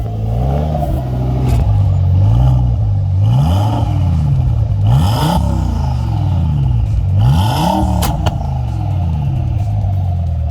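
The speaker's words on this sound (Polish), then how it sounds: "Tak brzmi, tak brzmi prawdziwy RS Plus." An Audi RS6 Plus with a modified 5-litre engine revs repeatedly nearby, rising and falling in rhythmic blips over a steady rumbling idle, with a faint voice in the background.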